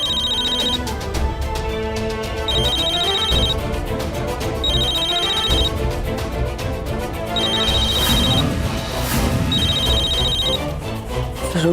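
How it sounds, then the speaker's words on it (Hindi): A phone rings at five in the morning, its electronic tone repeating in regular bursts over a steady low bed of background sound, close and clear, with no voices. "देखिए 5 बजे कौन फोन कर सकता है?"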